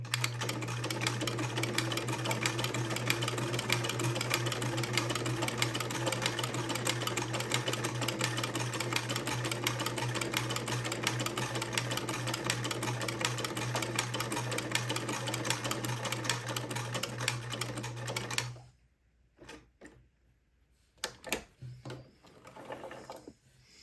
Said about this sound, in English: Drop my presser foot and make the next buttonhole.